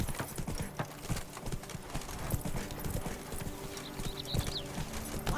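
Horse hooves clip-clop in a steady rhythm while riding through The Witcher 3, close and continuous, with an occasional soft snort or whinny over background ambience and no speech.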